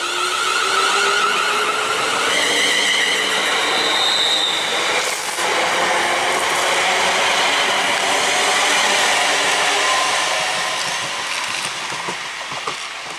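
A Class 380 electric passenger train on the Glasgow to Largs service runs through West Kilbride station, a loud sustained roar of wheels and motors with rising squealing tones, close and steady throughout.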